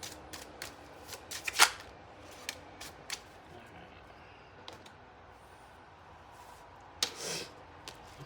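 Oracle cards are shuffled in quick soft riffles and slaps, irregular bursts close to the listener with quiet gaps between, and a few louder flicks and snaps as the deck is handled.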